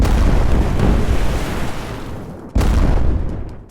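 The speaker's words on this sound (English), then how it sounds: "There is an explosion that goes off." Explosion sound effect in a tabletop horror role-playing game: a loud, sustained roaring rumble that fades, then a sharp second burst of blast noise that rolls on and tails off.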